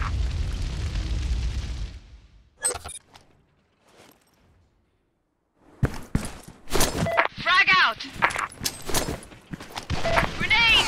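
A grenade blast in the video game Special Force 2 opens with a deep, loud boom that rumbles for about two seconds, then a quiet stretch followed by dense game sounds and voices.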